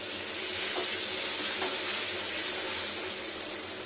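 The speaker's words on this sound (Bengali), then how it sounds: "এবার দেখুন ওই যে পোস্ত সব মিক্সিতে পিষে নিয়ে এসেছি, সব ঢেলে দিচ্ছি।" Ground poppy seed paste mixed with cumin, cardamom and dried chilli is poured into a hot pan with ghee and asafoetida, giving a steady, even sizzle and hiss throughout with no talking.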